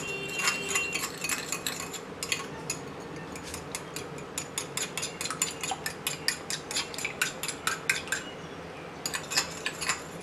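Egg batter for fried chicken whisked in a bowl: rapid, fairly even clinking taps of utensil against bowl, close and continuous with a brief pause near the middle.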